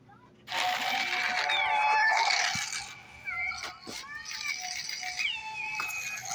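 A cat attacks a birthday card, rattling and crinkling the paper up close while bright tonal sounds rise and fall and meows break through.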